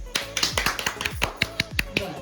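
A small group gives a short burst of uneven, close claps for a challenge winner, with people talking over them.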